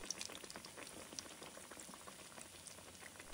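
Pieces of chicken frame deep-frying one by one in a generous amount of oil over medium-low heat make a quiet, busy bubbling and crackle, steady and somewhat distant.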